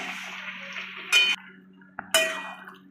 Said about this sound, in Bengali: চিংড়ি মাছগুলো দিয়ে আমি এটা নেড়ে নিলাম।